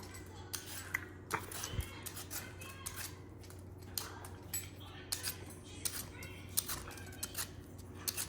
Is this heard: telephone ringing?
no